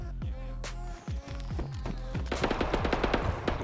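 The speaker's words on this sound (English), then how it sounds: "Oh, shots." Rapid bursts of gunfire in the survival video game DayZ, a dense run of shots that starts sparse and grows into a loud, continuous volley toward the end.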